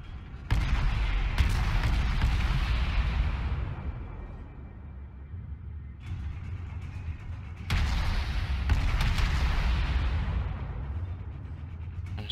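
Heavy warship main guns firing in World of Warships: two big booming salvos, each a loud blast followed by a long rolling decay, with a smaller rumble between them and no talking.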